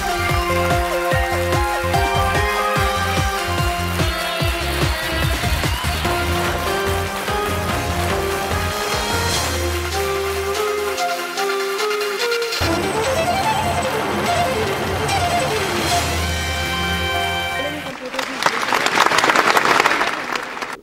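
A studio audience gives loud, sustained applause to welcome a guest on a Hindi quiz show, with a steady wash of clapping mixed with background music that swells at the end.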